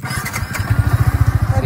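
A Yamaha R15 V3 motorcycle engine is started on the starter, cranking briefly before catching into a close, rhythmic, pulsing idle.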